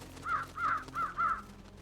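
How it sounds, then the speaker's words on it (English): Four evenly spaced caws from crows in the video game Trüberbrook ring out in a quick rhythmic series over a quiet low background hum. "Gonna shoot the crows while they're on."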